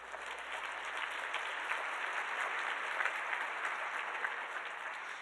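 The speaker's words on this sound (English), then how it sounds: "You have to give a round of applause." Sustained applause rises from the audience at a Healthy Futures Summit community-health event. It is even and continuous, a moderately distant crowd clapping with no talk over it.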